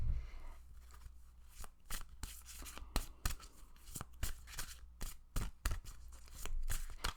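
Tarot cards shuffled by hand in a quiet room, a quick run of crisp riffling snaps and slaps close up, repeating in irregular bursts with no talk.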